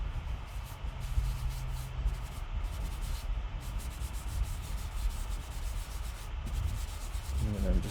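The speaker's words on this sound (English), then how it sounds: "just rub the charcoal stick on it" A charcoal stick rubbed across a tissue gives a steady, close, dry scraping and rubbing texture that runs the whole time, with no voice over it.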